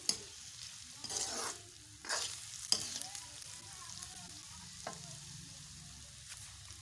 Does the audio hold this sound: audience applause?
no